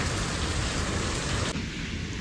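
Heavy rain pours steadily with gusting wind, a dense continuous hiss that drops noticeably quieter partway through as the downpour eases.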